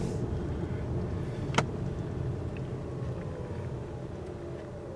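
A 2024 Toyota Grand Highlander cruises a dark city street at night. The cabin is filled with a steady low engine and road hum, broken once by a brief sharp click.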